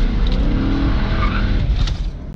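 A car slides sideways through a corner on a Moroccan race circuit during a trackday, its worn tyres squealing over a loud engine and rumble in one continuous, close skid.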